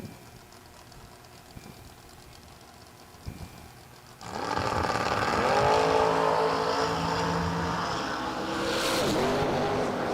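Drag racing cars, a Chevrolet Camaro and a Chevrolet Monte Carlo, launch at a drag strip: quiet idling gives way to a sudden loud, sustained engine roar that holds as they run down the track.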